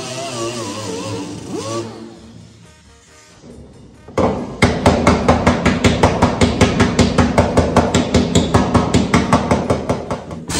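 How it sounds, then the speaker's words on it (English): Fast, even metallic taps of a hammer on a weld in sheet metal ring out loud and close, a steady run of sharp strikes after a few seconds of quieter shop noise. "we'll give it a couple of hits with the hammer, try and expand that weld back out"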